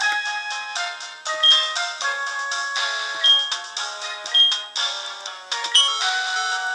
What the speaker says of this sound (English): And ooh, there's that phone call from Professor Elm.